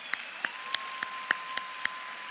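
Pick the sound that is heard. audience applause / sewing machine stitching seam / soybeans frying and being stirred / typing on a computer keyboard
audience applause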